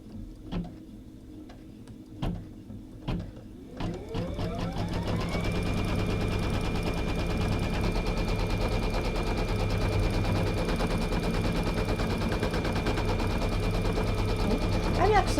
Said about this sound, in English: do my next stitch, which is the tack down stitch for the batting